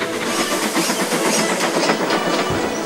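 In an animated show, a steam locomotive puffs along the line with a continuous rhythmic chuffing and clattering wheels, loud and close, and no voices over it.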